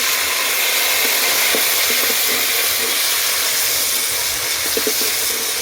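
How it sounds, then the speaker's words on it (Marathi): Halved green chilies and cut tomato fry in oil, a loud, dense sizzle that runs without a break, with faint knocks of stirring in the middle and near the end. "आणि तिलाही छान परतून घ्यायचं आहे आपल्याला तेलात"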